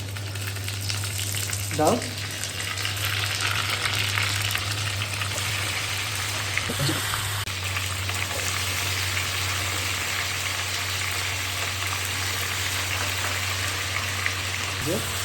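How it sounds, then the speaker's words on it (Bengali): Marinated chicken fries in a hot pan with a continuous close sizzle over a steady low hum. Occasional stirring and a brief spoken word break in. "এর মধ্যে আমরা ম্যারিনেট করা চিকেনটা এটা আস্তে আস্তে করে ঢেলে দেবো।"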